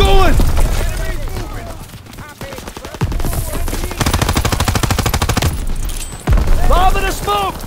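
Rapid automatic gunfire in Call of Duty: WWII, a dense rattling volley running through most of the stretch with brief pauses, loud and close, while soldiers shout orders over it.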